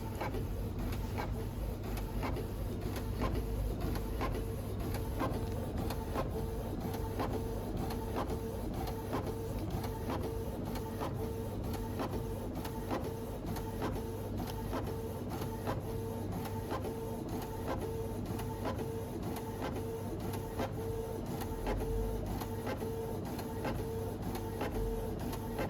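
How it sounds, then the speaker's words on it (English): An inkjet printer runs a cake topper print on paper, a steady mechanical whir with rhythmic clicks and carriage passes repeating close by throughout, with no voices. "So now it's going to just print out our beautiful topper for us."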